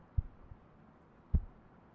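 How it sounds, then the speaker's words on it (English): Two soft, deep thumping heartbeats spaced about a second apart, each with a fainter after-beat, sit alone over a quiet hiss in a gentle, rain-themed sleep meditation. "soon all that you notice is your heart beating gently"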